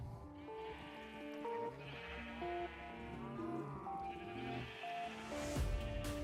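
Minecraft sheep bleat repeatedly over a layered game soundtrack of sustained tonal notes, the bleats fairly clear and mid-distance, with a louder burst near the end.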